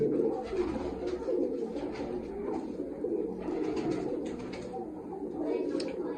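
Racing pigeons coo softly and continuously, a low murmuring chorus of several birds close by, with faint rustling in the background.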